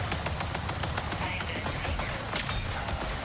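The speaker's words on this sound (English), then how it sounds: "gunfights, the gunshots and equipment sounds reverberate off the walls" Gunfire in the video game Marathon Infinity, a quiet, rapid string of shots and equipment clatter that reverberate off walls inside a level.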